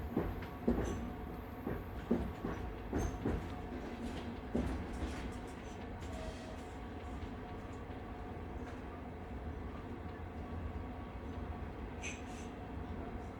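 A night train hums steadily through an Alpine tunnel, a low enclosed rumble with faint rattles and a few sharp knocks early on, then settling into an even drone.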